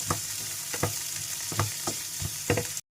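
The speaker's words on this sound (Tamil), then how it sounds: "குடமிளகா போட்டுக்கலாம். இது ரெண்டும் நல்லா வதங்கட்டும்." Capsicum sautéing in a pan, with a steady soft sizzle and several short stirring scrapes spaced through it, close and moderately loud, no talk.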